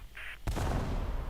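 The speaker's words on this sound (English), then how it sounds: "Dummy rocket barrage?" A dummy rocket barrage fires in War Thunder: a brief electronic tone sounds, then a sudden loud blast breaks into a sustained roaring rush of launches.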